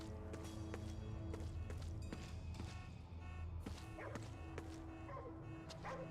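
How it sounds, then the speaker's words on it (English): A video game dog barks and yips in a quick series of sharp, short barks over a steady tonal background. "I hear the dog."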